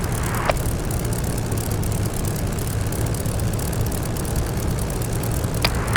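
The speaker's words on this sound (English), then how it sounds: "Continue to idle the engine at 1000 to 1200 RPM until it warms up" A Spitfire's piston engine idles at around 1000 to 1200 RPM while warming up in DCS, a loud, steady, close propeller drone with an even low throb and faint clicks, with no talking.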